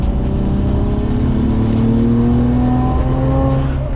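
A Nissan Skyline GT-R R33 accelerates hard as its turbo boost builds, the engine note climbing steadily in a loud, continuous roar heard from close inside the car, with faint repeated ticking above it.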